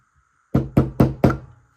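A pin is knocked back into a Tokyo Marui gen5 MOS airsoft pistol frame with four sharp, evenly spaced taps, close and loud in an otherwise quiet room.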